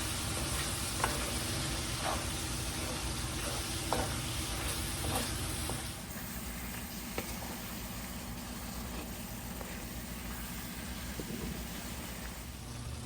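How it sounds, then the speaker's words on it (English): Meat caramelizing with brown sugar in a hot pan gives a dense, continuous sizzle with occasional stirring scrapes and taps, steady and close throughout with no talking. "Stir it all up and get it to caramelize"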